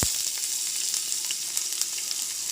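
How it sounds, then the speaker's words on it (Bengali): Chopped small onions fry in a hot pan as they brown, giving a steady, close sizzle with faint crackles throughout and no voices. "দিয়ে ভালো করে বাদামি কালার করে ভেজে নেব পেঁয়াজগুলোকে"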